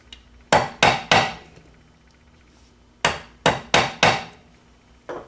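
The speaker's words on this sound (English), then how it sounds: "You're going to give it a big whack, maybe a couple whacks." A hammer gives hard whacks to a Thunderbolt A2-4M siren blower part to match-mark it before disassembly: three sharp metallic strikes in quick succession, a pause, then four more, close and loud with ringing decay.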